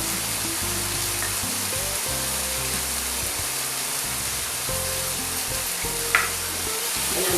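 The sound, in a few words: frying turmeric, garlic and mustard paste in a pan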